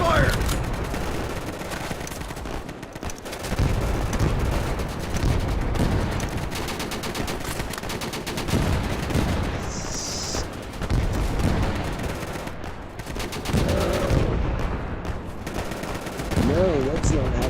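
Rapid bursts of gunfire from the Easy Red 2 war game on Xbox, dense and continuous through most of the stretch, with occasional louder shots and a voice speaking over the battle.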